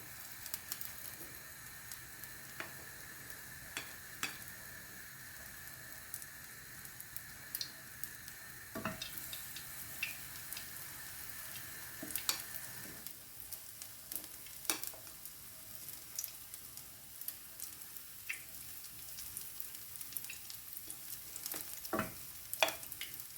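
Spoonfuls of fritter batter dropped into hot oil for tea-time pancakes, a faint steady sizzle with scattered pops and small clicks of a spoon, heard alone without talk.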